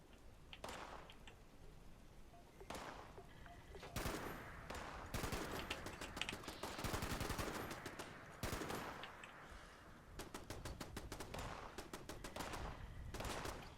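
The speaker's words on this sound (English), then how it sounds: "get over here where my turrets can get you" Automated turrets firing in Fallout 76: rapid machine-gun-style bursts rattle in repeated volleys, some long and steady, others short, fairly distant and alone without talk.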